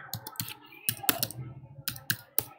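Close, crisp keystrokes on a computer keyboard come in short irregular bursts with brief pauses between them, as someone types a short entry into business software.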